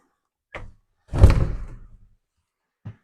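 A door in a cottage tool shed is opened, giving a close wooden thunk and scraping rattle, with small knocks just before and after and no talking.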